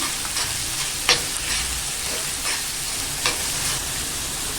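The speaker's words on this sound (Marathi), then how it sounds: "आता आपण यात ना कांदा टाकून घेऊया कांदा थोडा दोन मिनिटासाठी आपण परतून घेऊया" Chopped onion fries in hot oil for egg bhurji, a dense, loud, continuous sizzle close to the pan, with occasional stirring scrapes and crackles breaking through, no talking.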